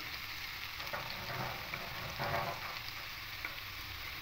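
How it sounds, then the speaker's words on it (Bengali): Potatoes fry in a pan for an aloo posto dish, a steady close sizzle with soft stirring scrapes and no talking. "দেখুন আলুগুলো একটু ভেজে দিয়েছি"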